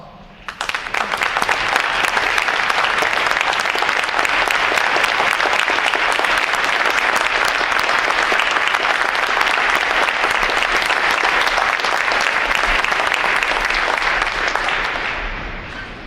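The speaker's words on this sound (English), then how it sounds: "Would our veterans please stand so that we can welcome them with a round of applause" Sustained, loud crowd applause welcoming veterans at a navy recruit graduation ceremony, rising quickly and holding steady for many seconds before fading at the end.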